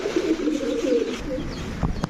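Low, throaty pigeon cooing close by, a continuous rolling murmur that fades out near the end.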